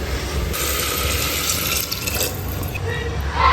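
Tap water runs steadily into a pot of rice for washing and cooking, a continuous close splashing stream with no pauses.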